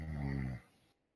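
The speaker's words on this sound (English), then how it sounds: "Am I hearing snoring? Actual snoring?" A person snores once, a deep rumbling breath that fades quickly into quiet.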